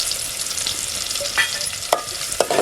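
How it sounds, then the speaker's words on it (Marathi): Onion and curry leaves frying in oil in a pan after browned garlic, a loud continuous close sizzle with a few sharp stirring scrapes near the end, no talk. "लसूण ब्राऊन झाले, आता कांदा आणि कढीपत्ता घालते."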